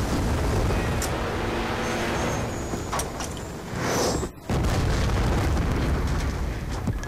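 A tank blown up in the Black Ops 2 video game campaign: dense, loud roaring battle noise with a sharp blast and brief dropout partway through, then the din resumes at full volume.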